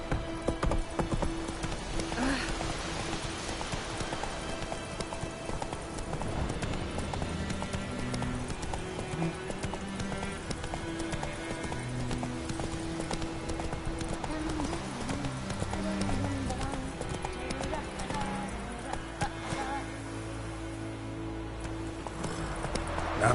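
Hooves of the horse Roach galloping in the Witcher 3 video game, with a rapid, steady clip-clop running under game sounds and a voice talking over it.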